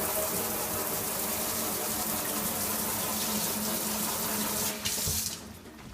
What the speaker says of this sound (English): Let me just rinse this really quick.